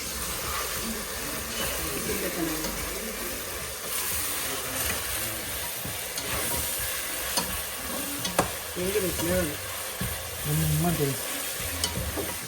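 Onions fry and brown in a pan for mushroom biryani, a steady close sizzle with intermittent stirring scrapes running throughout, background voices faint and brief.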